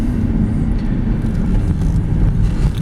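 A 2009 Subaru Outback on a test drive gives off a steady low road rumble and engine drone, continuous and fairly loud with no talking.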